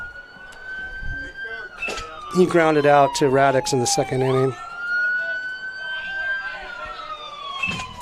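An ambulance siren wails steadily just beyond the left field fence at a junior varsity high school baseball game, a sustained tone with a quick yelping burst midway, under a nearby announcer's voice.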